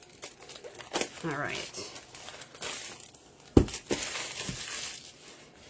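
Paper for a mini album craft kit being cut and handled, with crisp crinkling and snipping close by under a calm voice that speaks briefly.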